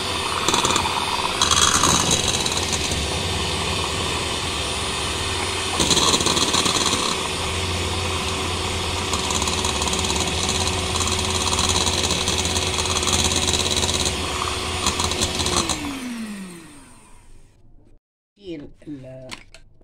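An electric hand mixer beats cake batter for a cornstarch cake on its lowest speed, a close, steady motor whir with rattling beaters that runs for about sixteen seconds, then winds down, with a voice heard alongside.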